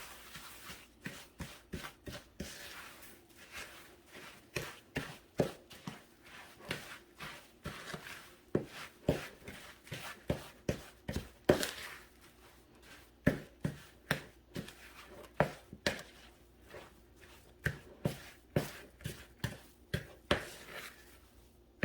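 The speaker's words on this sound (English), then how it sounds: "I'm gonna use my spoon to kind of hand mix these in" A spoon hand-mixes oats into cookie dough in a bowl, making a steady run of soft, quiet thuds and scrapes at an even rhythm, close up, with no talking.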